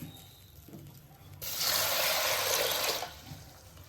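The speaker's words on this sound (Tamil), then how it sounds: "பாத்திரத்தில் மாற்றி அது முங்குற அளவு தண்ணி ஊற்ற போகிறேன்" Water pours steadily into a cooking pot of cowpeas for about a second and a half, a full rushing splash that starts abruptly and then stops.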